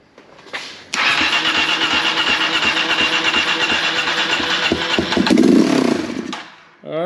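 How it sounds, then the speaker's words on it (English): A Kawasaki KLX250S motorcycle in poor condition catches on starter fluid: a brief crank, then the single-cylinder engine fires and runs rough and loud for several seconds, revving up near the end before dropping off. "that started on the starter fluid"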